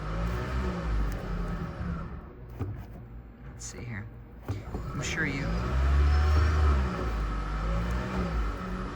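A Toyota Prius hybrid in park has its engine revved with the pedal pressed and released, a low rumbling rise and fall as the car rocks, with someone talking over it.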